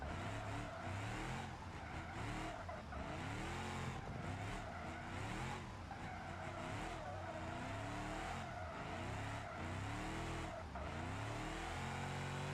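A car drifts around a track corner in BeamNG.drive, its engine revving and droning loudly with repeated rising and falling pitch sweeps and tire squeal, continuous with no talk.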